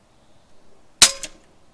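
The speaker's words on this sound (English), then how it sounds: "I'll take some shots until it gets to around these 960 feet per second" A single sharp, loud crack from an FX Panthera air rifle firing up close, a short sealed bang followed by a quick faint echo, against a quiet background.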